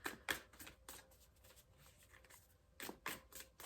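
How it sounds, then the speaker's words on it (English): Someone shuffles a new, oversized tarot deck, close and soft, in a few riffled bursts with quiet pauses between them. "I'm like trying my best to shuffle."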